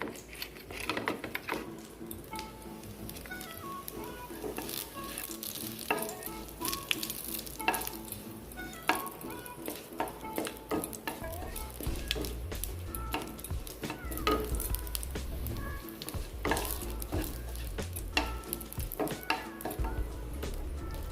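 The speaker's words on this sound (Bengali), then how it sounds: "তারপর দেব এই শুকনো লঙ্কা, তারপর দেব এই তেজপাতা," Dried red chillies and bay leaf frying in hot oil, a steady close sizzle with occasional stirring clinks of utensil against the pan throughout, no talking.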